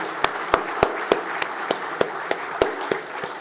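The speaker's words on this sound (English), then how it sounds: "I would request you to join me in a big round of applause for our distinguished luminaries in the panel" Sparse, evenly spaced claps from a few hands at a session on India's military history and heritage, roughly a dozen distinct sharp strikes at a slow steady rhythm in a quiet hall.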